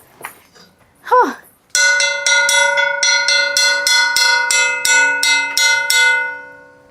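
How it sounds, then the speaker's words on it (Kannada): A bell at an old Basel Mission elementary school in Manipal rings in a quick, even series of about a dozen bright metallic strikes, loud and near, after a few brief voice sounds. "ಸ್ಕೂಲಲ್ಲೆಲ್ಲ ಹೀಗೆ ಬೆಲ್ ಹೊಡಿತಾರಲ್ಲ ನೋಡಿ"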